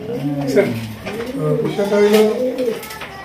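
Pigeons cooing nearby in a loft, overlapping throaty, wavering coos that rise and fall in rolling phrases, loud and close, with a few faint chirps.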